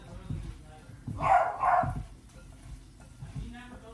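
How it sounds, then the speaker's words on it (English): A dog barks a couple of times at moderate distance, with a person talking in the background. "my dog's barking"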